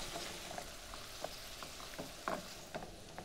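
Drained tomatoes lifted with a slotted spoon being stirred into a sizzling sauce for roasted striped bass; a low, even sizzle runs throughout, broken by soft spoon taps and stirring scrapes.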